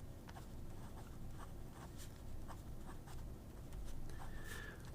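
A Parker Duofold Mini fountain pen with an 18 karat gold nib writes on paper, giving faint, close scratchy strokes in short bursts, with soft pauses between words.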